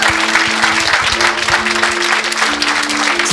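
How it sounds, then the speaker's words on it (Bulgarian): An audience at a school podcast event applauds a guest, a world kickboxing champion, with steady dense clapping that fills the whole stretch, over a faint steady tonal hum in the background. "Моля за вашите аплодисменти."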